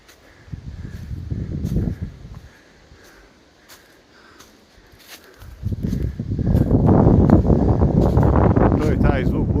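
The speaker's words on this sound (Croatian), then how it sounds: "To je taj zvuk bure." Bora wind gusts across a bare mountainside in the Velebit range, buffeting the microphone with a rough low roar that eases briefly, then surges louder and holds strong to the end.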